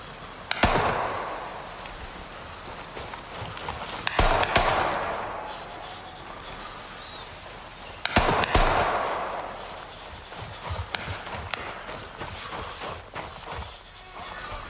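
Grenades blast in the military shooter Gray Zone Warfare, three sharp booms about four seconds apart, each ringing out into a rumbling echo, followed by scattered fainter pops.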